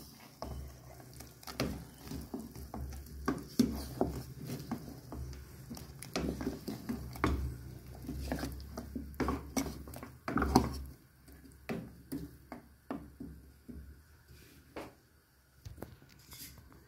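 Blended tomatoes being stirred into beef goulash in a pot, with soft wet squelches and repeated clinks and scrapes of a utensil against the pot, irregular and fairly quiet, no speech.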